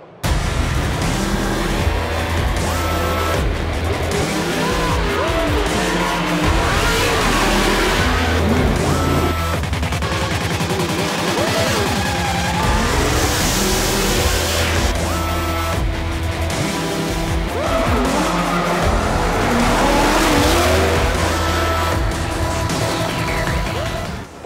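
A 2014 Ford Mustang drift car driven by a top professional drifter roars at full power with long screeching tire squeals and revving engine, loud and continuous throughout.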